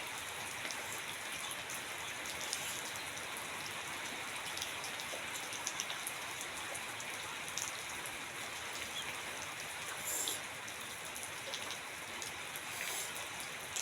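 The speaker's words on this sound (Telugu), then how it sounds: "బయట వర్షం పడుతుంది" Steady rain falls outdoors, a constant dense patter of drops on surfaces, even and unbroken for the whole stretch with no voices.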